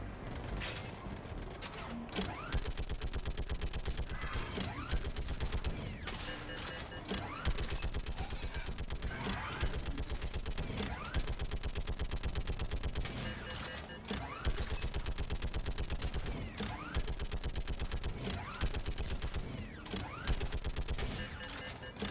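Sustained bursts of a mounted turret firing in the Mass Effect 3 finale, loud and dense with rapid repeated shots and mechanical clatter over game effects, continuing steadily throughout with brief dips between bursts.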